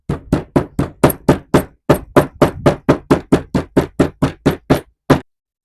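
T-trim tapped onto the edge of a campervan cupboard with a run of about twenty evenly spaced, sharp knocks, close and loud, with a brief pause partway through.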